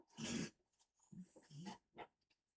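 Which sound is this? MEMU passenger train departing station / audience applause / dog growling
dog growling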